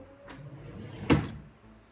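A desk drawer slides open, a brief wooden scrape followed by one sharp knock near the end, close up in a quiet room.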